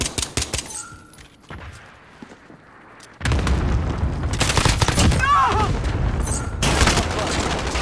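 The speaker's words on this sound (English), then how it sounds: "Friendly cluster strike inbound." A cluster strike lands in Call of Duty Modern Warfare: after a quieter stretch of scattered shots, a loud, dense barrage of overlapping explosions and booms erupts and rolls on to the end.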